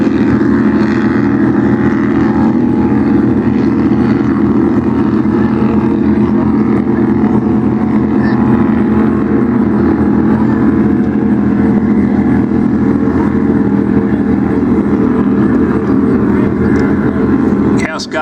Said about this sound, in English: you can hear B-More backing way out of the throttles